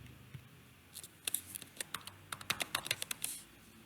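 Computer keyboard keys clacking as a file name is typed, a quick uneven run of crisp taps that starts sparse and grows denser and more rapid, close up and clear with no talking.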